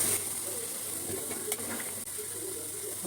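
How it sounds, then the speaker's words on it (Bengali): Hot water poured into a pan of mutton and potato curry as it fries, giving a steady, close sizzle and hiss that runs evenly throughout with no voices. "এখন আমি এখানে গরম জল করে রেখেছি গরম জলটা দিয়ে দিচ্ছি মাংসটা একটু ঝোল হবে"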